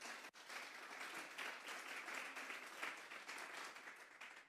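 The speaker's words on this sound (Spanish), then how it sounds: "Vamos a darle un fuerte aplauso pues al Señor." Sustained applause from a church congregation praising the Lord, a dense, even crackle of many hands clapping, heard quietly as if from a distance.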